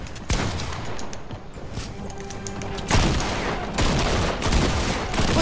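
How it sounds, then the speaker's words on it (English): A double barrel shotgun fires in rapid repeated bursts during Fortnite gameplay, with loud, punchy blasts coming in close succession over continuous game noise. "You can spam the double barrel"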